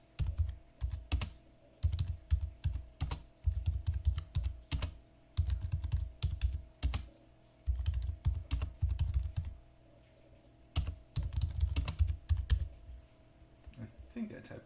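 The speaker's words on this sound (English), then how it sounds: "then we're going to type it in again" Typing on a computer keyboard during crypto masternode setup, close rapid clicking in quick bursts separated by short pauses, with a few sharper key strikes.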